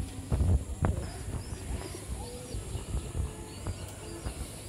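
Rajshahi Giribaz tumbler pigeons coo in low, soft bursts, with a couple of louder nearby thumps or flutters early on and light chirps scattered through a quiet background.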